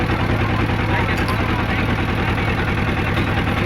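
A boat engine runs steadily on a river, with a constant low mechanical drone and rhythmic throb that stays loud and unbroken throughout.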